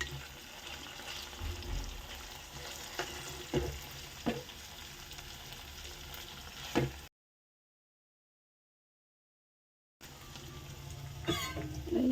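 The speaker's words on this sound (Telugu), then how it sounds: "బెండకాయ ఫ్రై చేశాను అనమాట బుడికి." Okra pieces fry in a pan in a home kitchen, producing a soft, fairly distant sizzle with occasional clinks of stirring, broken by a few seconds of silence before the frying resumes.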